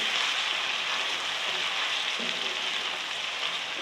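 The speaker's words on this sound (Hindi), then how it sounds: "अब इसमें लहसुन अदरक कुटा हुआ डालूँगी मैं। लहसुन अदरक को तकरीबन भूनूँगी मैं 1 से 2 मिनट" Crushed garlic and ginger frying with light-brown onions in a pan for palak chicken, a steady close, crackling sizzle that continues evenly with no talking.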